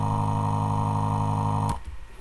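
A single low sampled note sustains steadily, then cuts off abruptly, leaving a brief faint tail.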